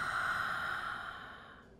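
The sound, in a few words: open-mouth exhale during yoga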